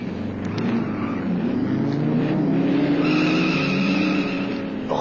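Racing car tearing along a race track while zigzagging to block an overtake, its engine a steady, loud continuous drone with rising and falling pitch and a hint of tire squeal, no voices.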